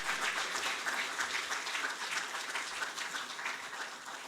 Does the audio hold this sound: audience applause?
yes